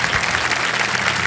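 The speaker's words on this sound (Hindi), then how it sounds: "ताली बज गई" Studio audience applause on the quiz show Kaun Banega Crorepati, a steady dense wash of clapping filling the whole moment at even loudness, with no voices over it.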